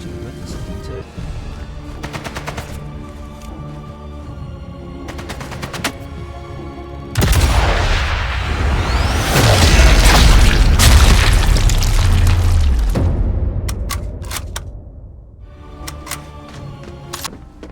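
Flak cannon firing in the WWII shooter game Sniper Elite: Resistance, a burst of heavy booming gunfire that erupts after a quieter stretch, rumbles loudly for several seconds, then fades back into the background game sounds.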